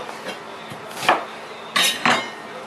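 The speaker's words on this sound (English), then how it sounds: "I'm going to keep finished cutting these onions" A kitchen knife cuts through an onion on a board, a few sharp knocks and slicing crunches spaced irregularly, close and clear with no talk.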